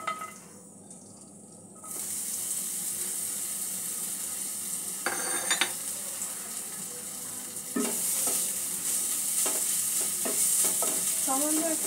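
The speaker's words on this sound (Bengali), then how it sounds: "এখানে রসুন আর আদাটা আমি একটু সামান্য সাঁতলে নেব।" Garlic and ginger hit hot white oil in a kadai and break into a loud, steady sizzle after a short quiet start, with a few scraping stirs.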